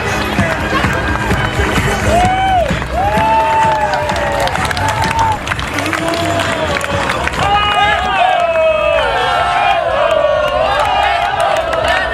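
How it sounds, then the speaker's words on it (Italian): Large crowd cheering and applauding at a carnival event in Savogna d'Isonzo, with shouts and whoops over continuous clapping, loud and sustained, while voices call out across the noise. "Un bel applauso per gli amici di Salonia, per i marinai che spazzano i mari della plastica."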